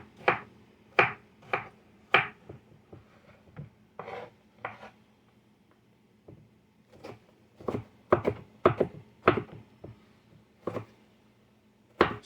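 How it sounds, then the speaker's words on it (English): A knife chops onions on a board for croquettes, giving sharp, irregular taps in short clusters with brief pauses between them. The sound is close and fairly quiet. "These onions are for the croquettes, so we really want to cut these down."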